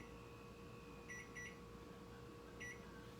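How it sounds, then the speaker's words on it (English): An oven timer being set gives a few short, faint electronic beeps: a quick pair, then a single beep a moment later, over a low, constant kitchen hum. "I'm going to set my timer."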